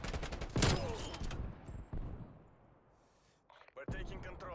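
Gunfire in the video game Black Ops Cold War, in a Christmas-themed Nuketown or Raid map: a loud burst of rapid shots, then scattered lighter bursts as the firing fades, and a renewed volley near the end.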